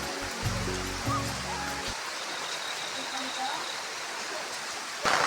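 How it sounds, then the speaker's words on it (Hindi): Heavy rain pours down over a village during the rice-transplanting season, a steady dense hiss throughout, with low sounds at the start and a brief bump near the end. "अब बहुत ही तेज़ बारिश होने लग गई है"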